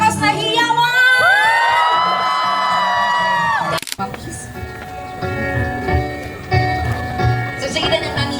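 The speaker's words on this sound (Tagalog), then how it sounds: "Pwede mo bang mas malakas na hiyawan?" Wedding guests cheer, whoop and shout for the newly introduced couple at a wedding. Loud, high, sustained yelling rings out first, then breaks into a dense crowd roar of overlapping voices and whoops that carries on to the end.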